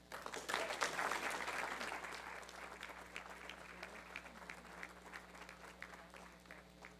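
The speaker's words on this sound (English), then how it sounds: "Please join us in a round of applause for Ms." A round of applause at a school board meeting, steady and moderately distant, opens with a fuller burst and then thins into scattered clapping that continues for several seconds.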